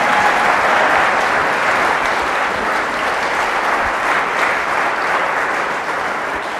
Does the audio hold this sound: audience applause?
yes